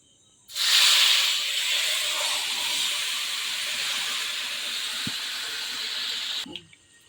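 Spiced chicken coated in salt, turmeric and oil hits hot oil with a sudden loud hiss that settles into a steady, close sizzle for several seconds before stopping abruptly.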